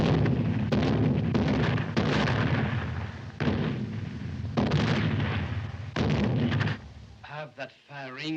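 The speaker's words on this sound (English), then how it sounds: "Have that firing stopped." Repeated booming gunfire salute in an early sound-era musical film, heavy blasts recurring roughly every second or so over a continuous rumble, loud and close, fading out near the end.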